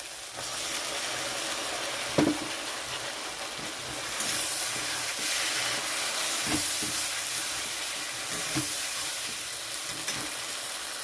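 Spices go into a pan of lightly fried prawns, setting off a loud, steady, close sizzle and hiss with a few soft stirring knocks scattered through it.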